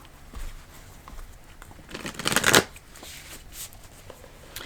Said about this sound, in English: Okay, I'm gonna pull cards.